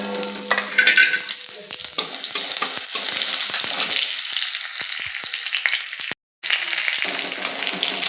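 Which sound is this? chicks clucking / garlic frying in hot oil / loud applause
garlic frying in hot oil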